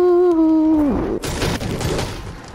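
Gunfire and impacts in Fortnite: after a steady droning tone drops away, a crack lands, then a rough stretch of rattling shots and thuds, loud and close.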